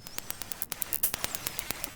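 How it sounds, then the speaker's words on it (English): Dolphin echolocation clicks in an underwater recording: a rapid, fairly regular train of sharp, dry clicks, about seven or eight per second, over a faint hiss. "So they make these clicking sounds and then they're able to use the sort of echoes that bounce back"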